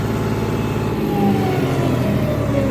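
A John Deere 5310 tractor engine held at full throttle around 2100–2200 rpm, a loud, steady close-up roar that stays level with no pauses.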